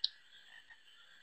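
A short frog croak from Final Fantasy IX game audio opens with a sharp click, then trails into a soft sustained chorus of calls with no talk.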